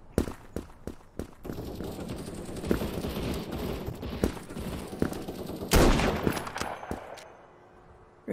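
Sniper rifle and other gunfire in the online shooter game Krunker, sharp shots cracking at irregular intervals with a louder burst near the end over a busy game soundscape.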